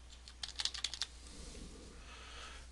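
A folder path being typed on a computer keyboard, a quick burst of about eight light key clicks followed by faint quiet hum.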